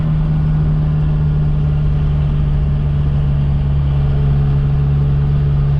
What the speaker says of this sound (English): way that I'd be able to pull this hill in third gear about 30 miles an hour in the Toyota